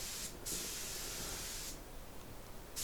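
Butterscotch blonde lacquer from an aerosol being sprayed onto a Telecaster guitar body makes soft, airy hissing bursts with brief pauses between passes, quiet and close, with no speech.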